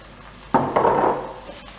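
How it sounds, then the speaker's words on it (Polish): Tomato purée poured into a hot pan of bolognese sauce, landing with a sudden wet splat and settling into a brief sizzling hiss that fades over about a second, close and fairly loud. "Wlewamy przecier."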